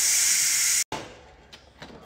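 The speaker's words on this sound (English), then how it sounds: "It's just stopped, so I'm gonna release the pressure." A Ninja Foodi pressure cooker holding Cuban-style chickpeas vents steam in a loud, steady hiss that cuts off abruptly. Softer, intermittent hissing follows.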